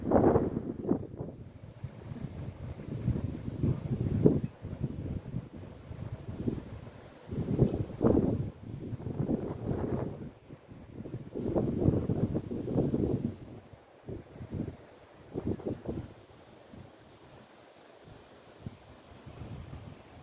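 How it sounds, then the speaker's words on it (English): Strong coastal wind the day after Hurricane Ian buffets the microphone in rough, surging gusts, with a low roar rising and falling continuously and no voices. "Wind gusts are still coming through here."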